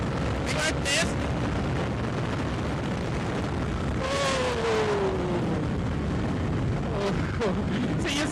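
A Bajaj Dominar 400 motorcycle on a 2022 ride accelerates hard, a loud continuous engine roar mixed with heavy wind rush, with a rider's short exclamation and brief talk over it.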